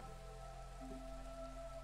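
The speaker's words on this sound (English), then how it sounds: "We're still in drizzle" Drizzle in the Against the Storm video game, a steady soft patter of light rain under a constant tonal ambient drone, even and continuous throughout.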